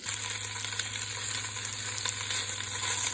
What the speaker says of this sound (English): So while we are letting the tofu sizzle